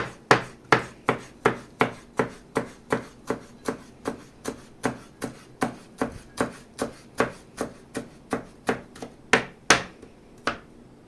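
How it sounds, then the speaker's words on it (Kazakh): Fresh herbs being finely chopped with a knife on a board, a long run of about two dozen steady, close knocks at a brisk, even pace, alone without voices. "Сонан соң өзімізге ұнайтын зелендерден аламыз."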